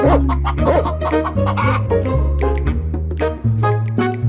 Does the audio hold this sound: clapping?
no